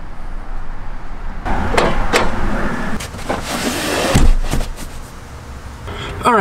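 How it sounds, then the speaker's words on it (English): Trunk lid of a 2017–2018 Hyundai Elantra pulled down and shut by a helper handle: a series of clicks and rattles leading into a firm thud, with a voice talking over it. "so you just pull on here and close on up the trunk"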